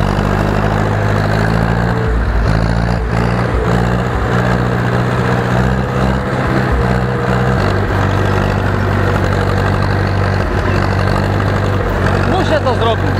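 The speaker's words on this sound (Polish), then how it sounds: "Ciągnik dostaje w palnik. Chyba za mocno, co?" An Ursus C-360 tractor engine runs loud and close during harrowing work on a farm, a steady heavy diesel drone with low rumbling harmonics that holds throughout, with a voice heard over it.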